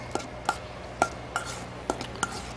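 A spoon stirs a paprika, lime and olive oil marinade in a bowl, giving six sharp clinks against the side at an uneven pace over a low background hum.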